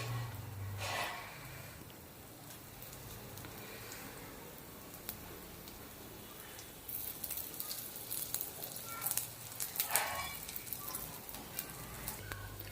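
Alu vadi, colocasia leaf rolls, fry in a pan with soft, faint sizzling and occasional louder crackling bursts, heard alone without talk.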